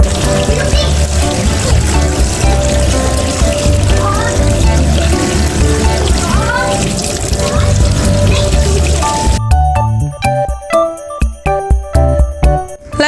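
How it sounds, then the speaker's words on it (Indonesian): Squid rinsed clean of baking soda under steady running tap water in a home kitchen, a continuous splashing trickle that gives way to music near the end. "jadi ini wajib kita cuci si cuminya sampai benar-benar bersih"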